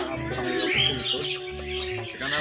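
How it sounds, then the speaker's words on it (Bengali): Pigeons of many breeds kept on a rooftop, cooing and calling close by in short repeated bursts, with no talking. "অনেক জাতের কবুতর আছে।"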